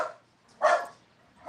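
Dogs barking indoors at a delivery person: a single sharp bark stands out between fainter yips before and after, close and fairly loud.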